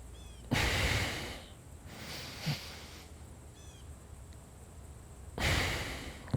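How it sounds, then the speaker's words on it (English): Deep yogic breathing in a standing exercise: two long, loud breaths through the nose and mouth, one at the start and one near the end, with a quieter breath between and no talk. "we'll just stand here and work on doing a couple of those Durga breaths"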